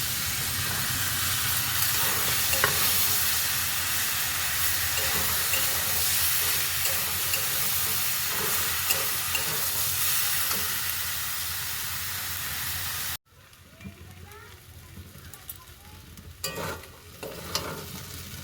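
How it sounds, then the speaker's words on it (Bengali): Pointed gourd and peanuts frying with spices, chilli powder and garam masala in a pan, stirred steadily: a continuous loud sizzle with scraping stirs, then quieter, more broken sizzling and clinks near the end. "আমি ভালো করে নেড়ে নিয়েছি"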